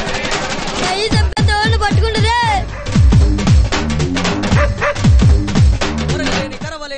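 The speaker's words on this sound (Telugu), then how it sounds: "చెత్త కుక్క ఎవడురా?" Street dog barking in a Telugu comedy scene, repeated sharp barks and yips in quick succession, loud and close, with a music or voice bed running underneath throughout.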